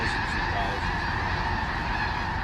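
A dense flock of geese honks continuously at a water retention impoundment at the headwaters of the Red River basin, many overlapping calls forming a steady, loud chorus with no pauses.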